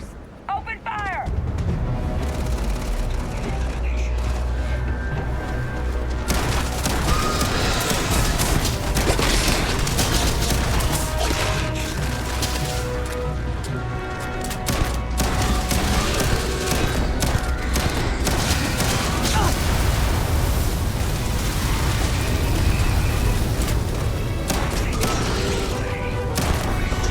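Sustained gunfire and explosions from a Starfield firefight, dense and loud throughout with booms and mechanical clatter layered under a talking voice and game music.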